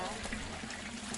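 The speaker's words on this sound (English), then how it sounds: "Washing with the brush and then rinsing in this little stream." Water trickling in a small stream where clothes are brushed and rinsed the old-fashioned way in Bali, a steady close wash of running water filling the short moment with no break.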